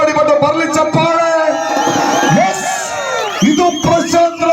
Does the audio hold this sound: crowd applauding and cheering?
yes